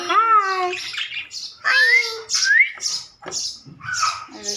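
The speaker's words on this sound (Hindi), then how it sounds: "वो तो तोता है, तोता बहुत प्यारा है ना।" Pet parrot squawking close by in a home, several harsh, rising calls in bursts with short pauses between them.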